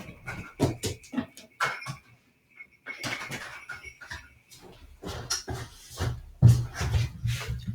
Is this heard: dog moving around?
yes